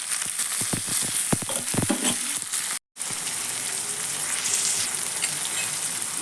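Curry leaves, onion and tomato fry in hot oil for a pea palya, a loud steady sizzle with crackling pops early on, a brief cut of silence, then continuous frying.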